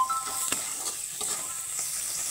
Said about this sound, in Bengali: তো মোটামুটি ভাজা ভাজা হয়ে গেছে।